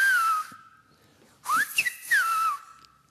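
Whistled language of Tenerife, a long melodic whistle calling out a person's name: two phrases of sliding, rising and falling tones, clear and fairly close, with a short pause between them and no talking.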